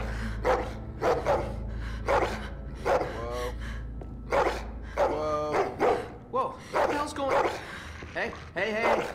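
Dog in The Walking Dead video game giving a series of sharp, close barks and yips in irregular bursts, with whimpering and panting between them.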